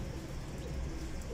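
A pigeon coos low and soft, a faint murmuring call that runs steadily through the short stretch amid light background hum.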